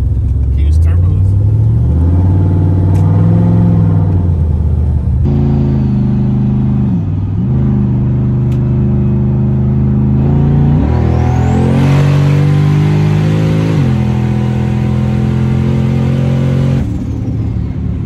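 Twin-turbo street truck with a stock engine and huge turbos, heard from inside during a ride: loud, continuous engine drone that climbs and drops through several rev sweeps and gear changes, with a person talking over it.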